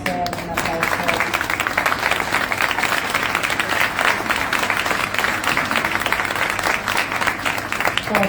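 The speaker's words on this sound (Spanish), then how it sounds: "un aplauso" An audience at a book presentation during a book fair claps in a steady, dense wash of applause that holds at an even level for several seconds, with faint voices mixed in.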